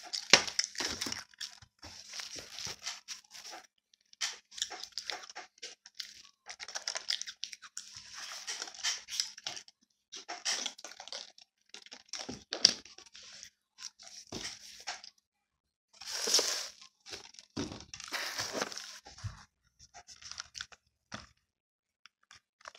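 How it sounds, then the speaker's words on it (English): Crunchy chewing and biting of chocolate mushroom cookies, with one big bite among many close, loud crunches in irregular bursts, sometimes pausing briefly, and no talking. "I'm gonna do one big bite with this one. Yum, it's nice and crunchy."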